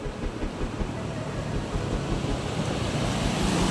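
Water pours from opened dam gates into a monsoon-swollen river near the village of Ghonsari, making a dense, continuous roar that stays loud and close and builds slightly toward the end.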